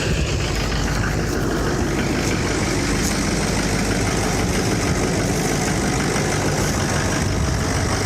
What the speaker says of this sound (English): It's got low batteries. I'm hoping it'll start.